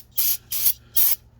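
Three short, sharp hissing bursts of brake cleaner sprayed onto the front brakes of a 2007 Honda Odyssey, close and loud with brief pauses between them.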